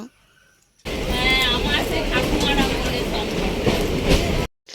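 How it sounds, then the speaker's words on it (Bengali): A train pulls out of a station with a loud rumble and rhythmic wheel clatter, and thin metallic squeals rise early on. The sound cuts in abruptly and runs about four seconds before stopping. "স্টেশন থেকে ট্রেনটা ছাড়লো দেখতেই পাচ্ছ"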